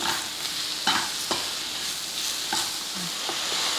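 Round-cut banana pieces sautéed with jaggery and cardamom powder in a pan, with a quiet sizzle under several distinct scraping, tapping strokes of a spoon against the pan.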